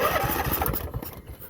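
Lawn tractor engine cranking and catching, a close mechanical churn that runs strongly at first and then settles and fades toward an idle.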